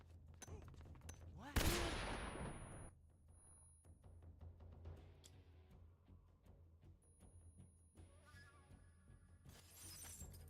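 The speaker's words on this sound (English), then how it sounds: "I'm going to instantly throw a stun grenade through the window" A stun grenade is thrown through a window in Metal Gear Solid 3, giving a sharp shattering burst followed by scattered gunfire and clattering game effects that fade over several seconds.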